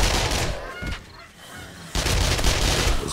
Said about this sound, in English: There's a pissed off goose out there.